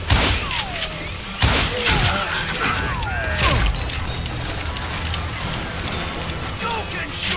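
Repeated gunfire in the Western shooter Call of Juarez Gunslinger, with loud sharp shots and ricochet whines in bursts over a busy, noisy game soundscape, mixed with voices talking.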